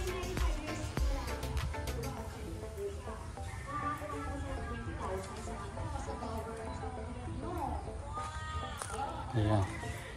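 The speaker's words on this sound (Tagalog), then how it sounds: "May mga kambing guys dito." Goats bleat repeatedly on a rural Philippine farm planted with long string beans, the calls mid-distance and fairly loud, with one strong bleat near the end, while someone talks over them throughout.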